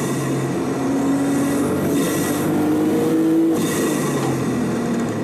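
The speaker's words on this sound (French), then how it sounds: "le tout gavé par 2 turbos qui respirent bruyamment derrière vos oreilles." A Porsche Boxster Stola GTS with a twin-turbo engine tuned to 480 horsepower accelerates hard. The engine note climbs loud and close through several rising pulls, with a short dip between gears.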